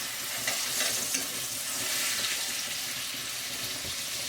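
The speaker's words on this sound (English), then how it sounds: "We're just going to lightly brown them" Pork chops browning in a hot frying pan give a steady, close, even sizzle that runs unbroken with faint stirring and scraping under it, and no one speaks.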